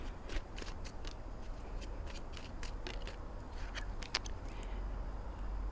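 Tarot cards being shuffled by hand, a quick irregular run of crisp riffling snaps and flicks close by, with one sharper click partway through and no voices.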